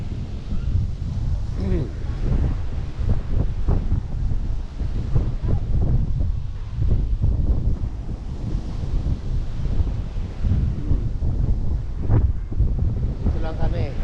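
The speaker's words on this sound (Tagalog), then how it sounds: "Medyo malakas ang hangin." Strong wind buffets the microphone at White Beach in Puerto Galera, a loud, constant roar with surf beneath it and bits of talk now and then.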